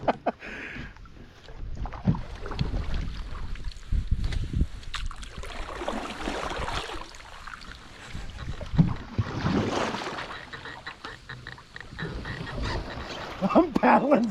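Canoe paddling on a wilderness lake in the Boundary Waters, with water sloshing and wind buffeting the microphone in a steady wash; people talk now and then over the splashing strokes.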